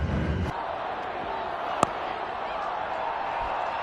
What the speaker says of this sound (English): And they cheered him to the middle.